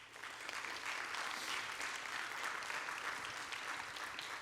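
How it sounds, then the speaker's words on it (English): Steady, dense applause fills a hall at a nursing convocation at Hofstra University, a continuous wash of many hands clapping at even volume throughout, heard from a distance. "Can you guys please stand up and get a round of applause?"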